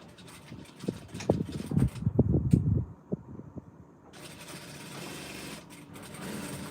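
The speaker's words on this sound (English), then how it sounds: "I'll stitch it to the other side." A sewing machine stitches blouse fabric, with a burst of rapid mechanical chattering at the start, a pause, then a steadier whirring run. No one speaks.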